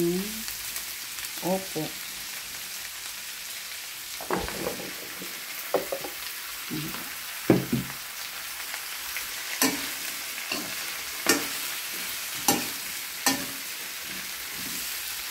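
Shrimp sautéing in a hot pan, a steady sizzle broken by repeated sharp scrapes and clanks of a utensil stirring, close and moderately loud, with a brief murmur of speech.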